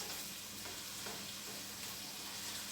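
Onions and garlic fry gently in a saucepan with a soft, steady sizzle and crackle, fairly quiet and close, with a few faint stirring clicks and no voices.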